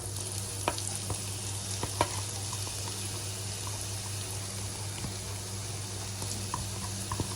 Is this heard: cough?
no